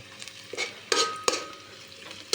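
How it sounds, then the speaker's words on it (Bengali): Onions frying in a pan while being cooked, with a soft background sizzle broken by a few sharp scrapes and clinks of a utensil against the pan, fairly quiet and close with no talk. "পেঁয়াজগুলো আগে ভেজে নেই"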